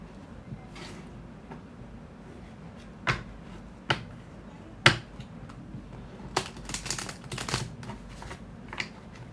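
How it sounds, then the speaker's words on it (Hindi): Tarot cards are shuffled in short, crisp bursts of riffling and snapping, spaced irregularly and heard up close against a quiet room. "I think I need to shuffle."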